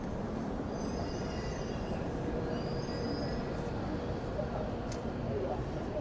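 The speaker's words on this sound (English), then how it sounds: "take a quick look-see inside the station from the main entrance" Busy interior of Omiya railway station with trains, a dense continuous rumble of rail traffic and crowd murmur, with faint wheel squeals; voices chatter throughout the hall.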